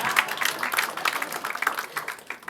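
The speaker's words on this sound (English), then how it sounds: "I thought that is where you need to clap." An audience claps at an evening documentary screening, a steady patter of many hands heard at a moderate distance, with no talking over it.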